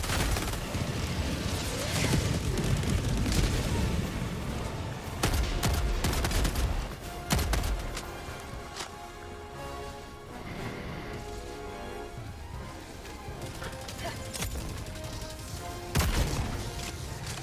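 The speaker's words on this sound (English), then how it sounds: "This guy's rocket blew me like 20 feet." Helldivers gameplay combat with a rocket explosion amid heavy gunfire, bursts of rapid shots and loud booming impacts over a dense, chaotic battle din that lasts throughout.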